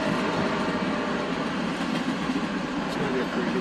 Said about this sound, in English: It's gonna be a pretty good sized train too.